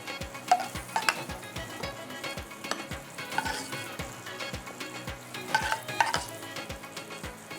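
Pudding mix stirred into milk in a pot on the stove, a soft bubbling sizzle with a regular series of quiet scraping and tapping strokes from the spoon; no talk.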